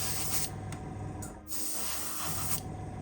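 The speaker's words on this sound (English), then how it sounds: "airbrushing acrylics is like the safest way to make sure you keep that detail there" Airbrush spraying earth brown acrylic paint onto a 009 scale model wagon kit, a soft steady hiss in a few bursts with brief pauses between them, close and quiet.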